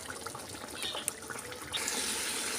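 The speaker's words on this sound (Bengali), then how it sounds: "এর মধ্যে আমি দিয়ে দিচ্ছি উপর থেকে সর্ষের তেল" Mustard oil poured from above into a simmering pabda fish curry with mustard and poppy seed paste, giving a steady, close liquid trickle and hiss that brightens toward the end.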